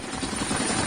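A helicopter flying over a warship, recorded in Iranian footage, gives a steady, loud, close rotor roar that fills the short moment without a break.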